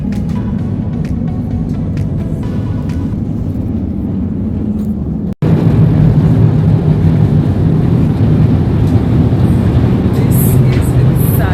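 Cabin of a passenger airliner on a flight from Mumbai to Munich, a steady low engine and air rumble that cuts out briefly, then returns louder and continues unbroken.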